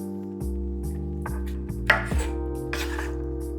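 A knife cuts the last small piece of pineapple on a board, giving steady, evenly spaced chopping knocks, fairly quiet and close, with a couple of slightly louder strikes near the end.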